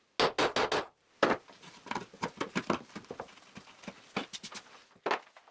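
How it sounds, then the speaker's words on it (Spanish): A steel bolt head is hammered from the underside into a wooden board, giving a quick cluster of sharp knocks, a short pause, then a long run of irregular, close taps with no talking. "Meto el tornillo en los agujeros por la parte inferior del tablero y lo golpeo para marcar en el tablero la forma hexagonal de la cabeza"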